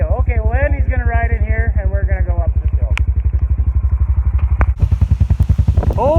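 An old Chinese-made bush motorcycle thumps along with a steady, loud, rapid engine pulse as it heads up a very steep hill, while someone talks over it early on.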